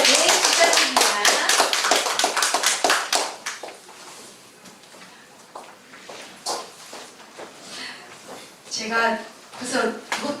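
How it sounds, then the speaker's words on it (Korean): Clapping at a Korean Cheondogyo gathering as a speaker is welcomed forward: loud rapid applause at first that thins out after a few seconds into scattered claps, with voices and movement sounds continuing underneath. "박수로 모시겠습니다."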